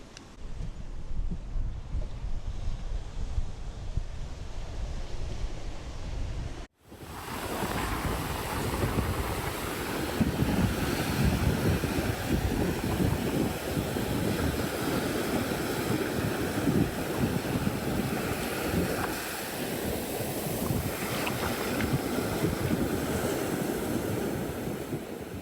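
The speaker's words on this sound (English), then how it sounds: "I think we're gonna go down to the ocean." Ocean waves wash onto the beach at Lookout Cay, Lighthouse Point, a Bahamas island, as a continuous loud surf roar with wind buffeting the microphone. A brief dropout comes early, then steady crashing for the rest of the stretch, with no talk.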